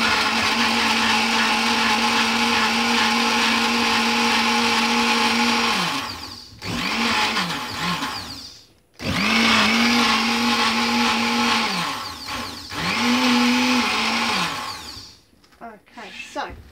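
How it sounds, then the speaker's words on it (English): A kitchen blender whirs loudly, cutting out briefly twice and restarting with rising and falling pitch before stopping near the end. "So I'm going to pop my blender on"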